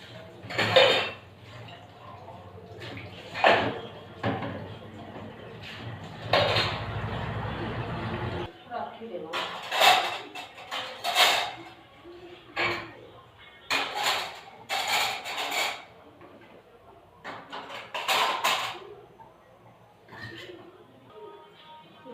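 Dishes, pots and utensils clatter and clink repeatedly in bursts as they are scrubbed, with running water from a motor at the start and a voice talking now and then between the clanks.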